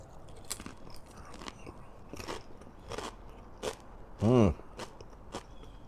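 Several crisp crunches from close biting and chewing a sardine sandwich with salt and vinegar crisps, scattered across a few seconds, with one louder voiced sound near the end.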